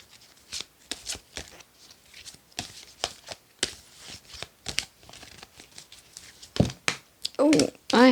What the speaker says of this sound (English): Helps if I can shuffle.